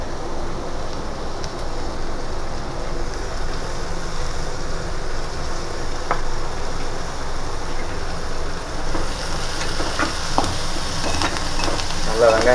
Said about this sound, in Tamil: கருவேப்பிலை சேர்த்துக்கிடுவோம்.